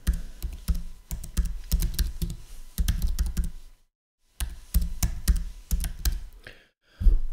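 Fingers typing server addresses on a Mac computer keyboard: quick bursts of close, crisp key clicks, with two short pauses between runs of typing.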